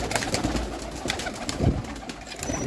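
Red-eyed Kamagar pigeons going into a breeding cage coo and flutter close by, soft bird calls over a steady busy background with scattered wing and movement sounds.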